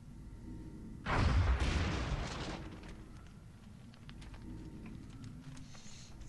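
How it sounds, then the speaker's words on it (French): A small in-game explosion from XCOM booms once, loud and close, with a broad blast that decays over about two seconds before settling into a low rumbling ambience. "Petite explosion, quoi."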